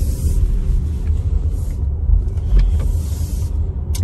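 A 2024 Audi Q5 Sportback on the move, giving a steady low road rumble and engine drone from inside the cabin with no speech, the level holding even throughout.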